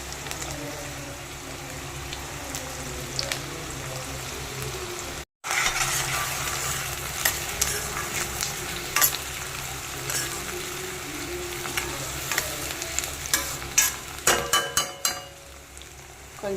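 Large-cut onions and four green chillies fry in oil, giving a continuous low sizzle with intermittent scraping and clinking of a spoon stirring the pan, a brief dropout midway and sharper clatters near the end.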